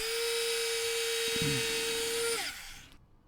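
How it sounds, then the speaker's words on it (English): A high-pitched drill whines steadily into a vintage Warhammer Tusgor chariot model, holding one tone for about two seconds before winding down and stopping, close and loud with no talking. "I will drill into where it was"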